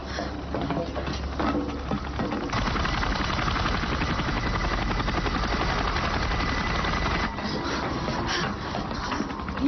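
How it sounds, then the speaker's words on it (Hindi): Rapid, continuous rotor chopping from combat helicopters, loud and steady throughout, with a dense mechanical roar filling the background. "ये हेलीकॉप्टर्स की आवाज लगती है।"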